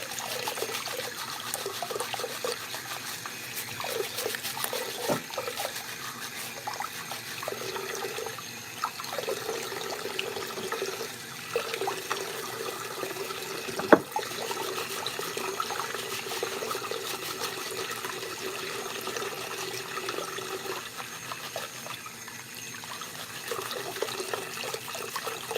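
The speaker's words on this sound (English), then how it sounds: "So I have to turn on my water." Water running from a tap in a home, a steady trickling hiss that continues without a break. A few faint knocks and clatters sit underneath.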